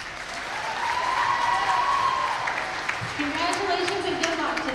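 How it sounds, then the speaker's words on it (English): Steady audience applause in a high school gym at a North Dakota volleyball game, moderately loud and sustained throughout, with faint voices and a few tonal sounds layered over the clapping. "Let's give a round of applause for Rebecca."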